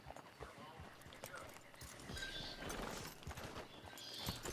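Horse hooves clip-clop at an easy pace in the video game Red Dead Redemption 2, soft and fairly close, with voices talking over them.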